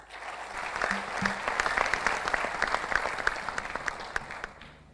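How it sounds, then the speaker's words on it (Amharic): Sustained audience applause fills a student quiz competition hall, a dense steady wash of many hands clapping for the whole stretch, swelling slightly in the middle and easing off toward the end. "ሞቅ ያለ ጭብጨባ አሰሙ።"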